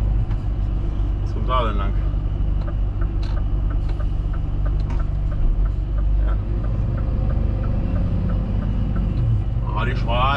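Car engine rumbling steadily from inside a moving vehicle on a road, a constant low drone throughout, with someone speaking over it.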